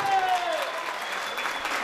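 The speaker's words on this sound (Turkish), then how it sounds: "Özellikle bir alkış istiyorum bu işime şimdi" An audience claps steadily and fairly close at a village association night for Boyabat Bengübelen, a dense, continuous wash of applause with a thin tone lingering in the background.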